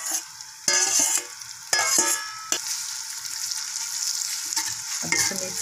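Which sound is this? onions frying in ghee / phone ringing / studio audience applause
onions frying in ghee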